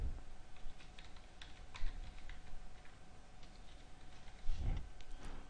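A credit card IPIN entered on a keyboard for an online electricity bill payment, heard as soft, fairly quiet keystrokes over a low background hum, with a couple of heavier taps.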